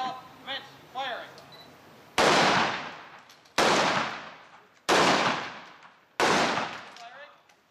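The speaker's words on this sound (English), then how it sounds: "Detail, fire by file, commence firing." Rifles fire one after another by file in a historic military demonstration at Fort Mackinac, four loud sharp cracks at roughly even intervals, each with a decaying echo, after some quieter clicks and a commanding voice at the start.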